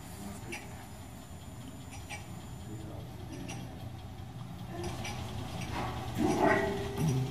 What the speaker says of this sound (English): I come over here and hit test, and the machine runs